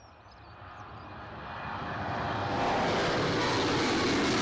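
A Jet2 airliner on pushback at Newcastle Airport, its engine roar a broad, steady rush that swells louder over a few seconds and then holds, heard without talk.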